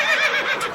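A horse gives a short, bright whinny, close and loud, with a wavering high cry lasting under a second.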